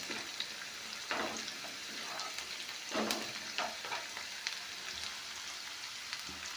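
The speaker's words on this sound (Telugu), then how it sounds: "ఆనియన్స్ని కొంచెం బ్రౌన్ కలర్ వచ్చే వరకు ఈ విధంగా ఏగనివ్వండి" Thinly sliced onions browning in oil in a pan for tomato curry, a steady close sizzle with scattered crackles and occasional stirring scrapes, no voices.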